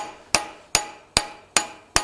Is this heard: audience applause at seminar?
no